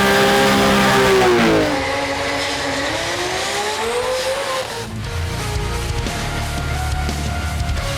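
A Nissan GT-R drag car at a GT-R festival drag racing and drifting event revs hard and loud, its engine pitch climbing and falling through gear changes before settling into a rougher, fading roar.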